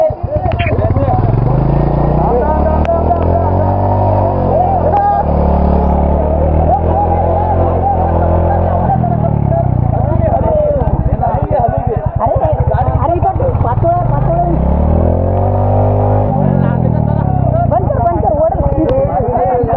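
A motorcycle engine runs loud and close throughout a monsoon off-road ride, its steady drone rising and falling with throttle while a voice speaks over it.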